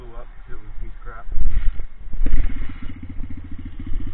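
A 125 pit bike engine with a faulty pilot jet putters and revs unevenly up close, its rough firing pulses and clatter rising in bursts, while people talk over it.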